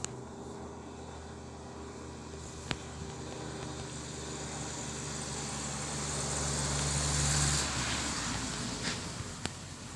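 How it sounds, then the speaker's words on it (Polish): Steady low traffic rumble that swells as a car passes nearby around the middle, with a few sharp clicks scattered through; no talking. "to są auta, które przejeżdżają obok"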